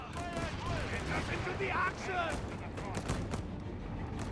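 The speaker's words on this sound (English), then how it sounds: "A lot of explosions here." Dense gunfire and explosions rumble through a Company of Heroes 3 battle between Afrika Korps, British and US forces, a continuous layered roar of shots and booms while a commentator talks over the action.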